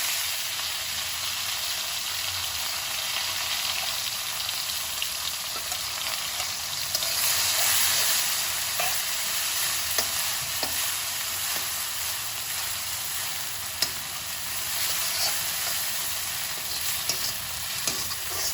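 Bitter gourd fries in a pan as pounded masala is stirred in, giving a continuous close sizzle and hiss with faint scraping stirs throughout and no talking.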